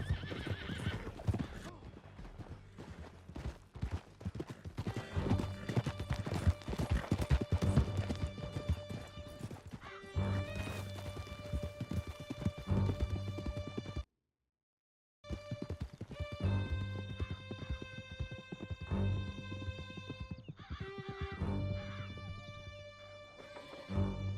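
Several horses gallop hard through a canyon in Red Dead Redemption 2, with steady close hoofbeats, occasional neighs and a brief dropout midway, set against a music score.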